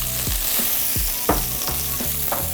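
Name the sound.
panko breadcrumbs toasting in melted butter in a pan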